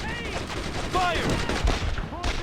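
Dense bursts of rifle and machine-gun fire from the World War II video game Brothers in Arms, steady and loud throughout, with shouted voices mixed into the battle.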